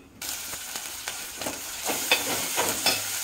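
Prawns frying in a pan with ginger paste, giving a loud, steady sizzle and crackle throughout, growing slightly busier toward the end.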